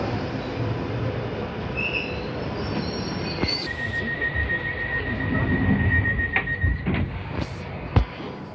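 A London Underground train travels between Heathrow and Richmond, rumbling steadily along the rails as its wheels squeal in a long, thin metallic whine, with sharp clanks and a louder jolt near the end.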